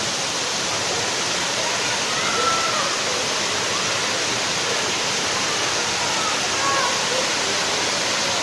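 Taman Sari Waterfall flowing as a constant, loud, broad roaring rush of falling water, steady and unbroken throughout.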